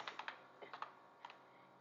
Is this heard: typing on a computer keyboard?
yes